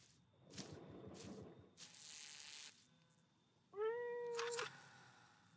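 A cat meowing in the horror video game Greyhill Incident, one clear, close, drawn-out meow following some shuffling and rustling game sounds, with no talking.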